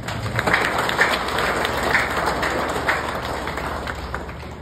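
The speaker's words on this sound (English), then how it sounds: "please give them a warm round of applause" A crowd applauds steadily for several seconds at a graduation, many hands clapping together in a dense, even wash with a few louder claps standing out.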